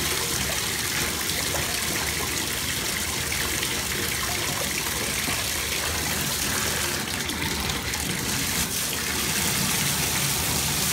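A bath bomb fizzes and bubbles in bath water while the tub fills, a continuous dense rush and trickle of water heard close and fairly loud throughout.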